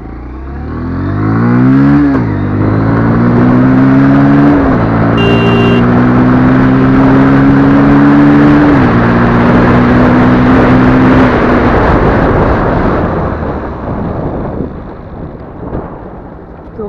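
A Bajaj Pulsar 125 BS6 motorcycle on a test ride accelerates hard from a start, its engine note climbing through several gear changes with loud rushing wind noise, then easing off near the end; no talking.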